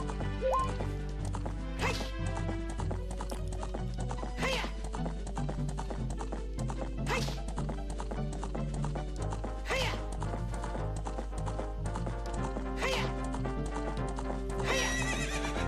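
Epona the horse gallops in Zelda: Ocarina of Time, with steady clip-clop hoofbeats and repeated whinnies over constant game music, the hooves loud and close throughout.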